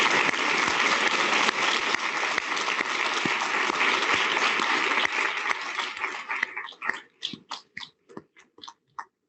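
An audience at a medical school commencement applauds for the student marshals. The sustained, loud clapping from many hands thins out over the last few seconds into a handful of scattered, separate claps.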